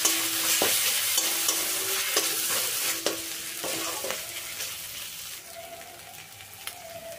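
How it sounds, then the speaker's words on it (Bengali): Ginger-garlic paste is stirred and fried with fried onions in a pan for a potato curry, with gentle sizzling under repeated scraping and knocking strokes of a spatula that fade toward the end. "আদা রসুনটা এখন ভালো করে কষিয়ে নেব"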